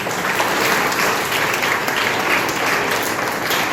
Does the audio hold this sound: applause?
yes